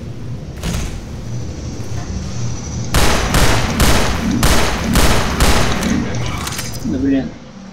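Gunfire in the Entropy: Zero 2 video game, a run of about six sharp bursts in quick succession after a quieter stretch of game ambience, fairly loud and close.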